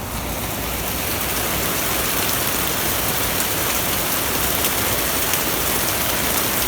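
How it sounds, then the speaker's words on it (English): Heavy rain pours steadily just outside an open patio door in summer, a dense, even hiss of drops drumming on surfaces that stays loud and close throughout with no voices. "It started pouring down rain."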